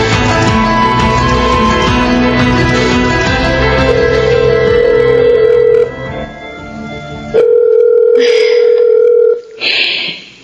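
Telephone call in progress, with steady ringback tones repeating while waiting for someone to answer, set against a dense musical background that drops away toward the end.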